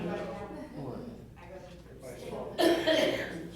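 Several coughs and throat clearings break out in a meeting room during a town board work session, close and sharp, mixed with murmured talk and one louder burst near the end.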